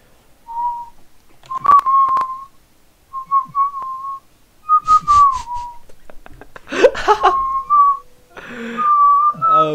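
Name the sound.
person whistling badly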